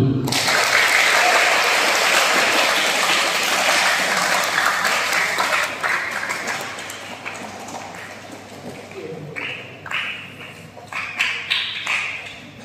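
Audience at a PSHT Madiun induction briefing on national insight bursts into loud, dense applause for several seconds, then it thins into scattered, fading claps from a few hands.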